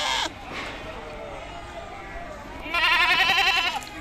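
At a crowded goat market, one loud, quavering bleat rises near the end over a constant hum of background crowd noise, after a brief sharp sound at the start.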